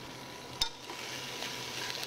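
Mirepoix vegetables dropped into hot oil for a lobster pasta stock, a soft steady sizzle with a sharp clatter of the spoon as they are stirred, fairly quiet and without talk.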